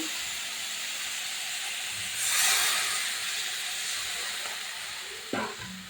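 Water is poured into a hot pan of shrimp and pea greens for a Bengali ghonto, giving a sudden loud steaming hiss that swells for a moment and then settles back into a low, steady simmer.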